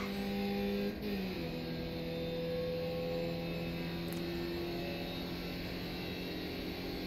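A Skip Barber race car in iRacing drones steadily at high revs on the Charlotte Roval oval, with a quick gear change near the start before the engine note settles and holds.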